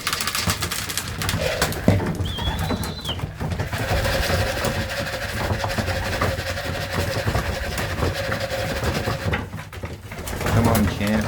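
Racing pigeons coo in a loft after returning from a toss, soft repeated cooing close by under a steady mechanical hum, with a voice talking over them.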